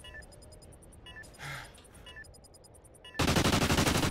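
Video game gunfire rattles in quick repeated bursts that end in a loud, dense stretch of rapid shots.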